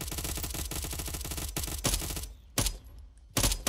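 Rapid automatic gunfire from the Roblox game Blacklands rattles loudly in a dense burst, then breaks off into a few separate short bursts. No speech is heard.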